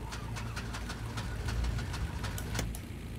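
The right engine of a twin-engine Beechcraft Baron 58 in the X-Plane 11 flight simulator turns over and runs, giving a steady, rough, pulsing drone with a regular rhythmic chop that holds at an even level throughout.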